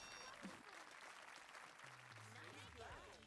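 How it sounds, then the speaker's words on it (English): Crowd clapping in the golf video game Everybody's Golf, a steady wash of applause across the whole moment with a person talking over it and brief tonal game sounds near the end. "look at them clapping"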